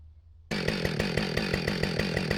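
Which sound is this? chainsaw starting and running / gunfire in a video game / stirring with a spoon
chainsaw starting and running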